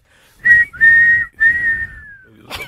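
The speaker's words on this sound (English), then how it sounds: "Blow the whistle." Three sustained, fairly loud whistle tones sound in a row, the last sliding downward as it fades, followed by a brief noisy burst.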